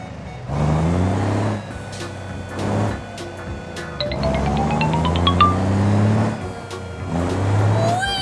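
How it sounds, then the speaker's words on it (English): Monster truck engine revving in repeated loud surges, rising and falling pitch over several seconds, with a brief bright chiming tone partway through. "Monster truck."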